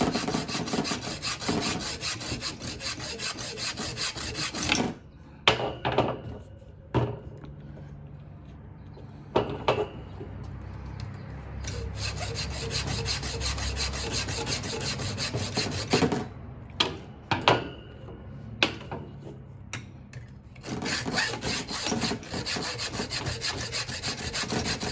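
A hand saw cuts off a gun grip, rasping in steady back-and-forth strokes for long stretches, broken by pauses with clunks and handling knocks before the sawing resumes.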